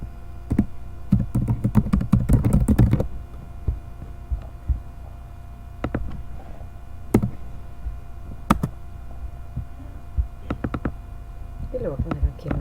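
Keys tapped on a computer keyboard to type a folder name, a fast burst of clicks at first, then sparse separate keystrokes over a low steady hum.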